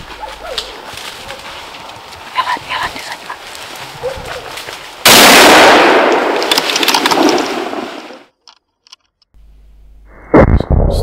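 During a driven roebuck hunt, a single loud rifle shot cracks out and echoes away over a quiet outdoor scene, with birds cooing beforehand and a few faint knocks afterward.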